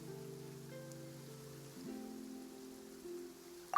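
Light rain falls in the Genshin Impact video game as a soft, even patter under sustained tonal music notes that shift partway through, ending with a brief bright click.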